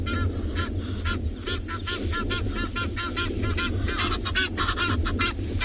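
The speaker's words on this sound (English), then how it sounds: "There's a lot of Egyptian geese. You can hear them" Many Egyptian geese honking repeatedly in a steady, overlapping chorus at moderate distance, heard at a waterhole during a sunrise safari, over a constant low rumble of background noise.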